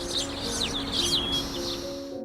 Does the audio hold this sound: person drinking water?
no